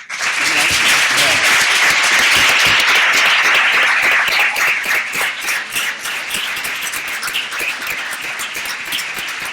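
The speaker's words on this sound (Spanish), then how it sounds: "con un aplauso que sale del corazón" Loud, sustained applause from an audience at a legal conference on equality, a dense roar of clapping that stays strong and then eases slightly toward the end.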